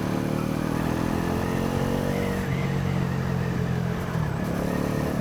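A Bajaj Pulsar NS400 motorcycle on a test ride gives a steady close-up engine drone with wind rush, the pitch shifting slightly as the rider changes speed, with no talk over it.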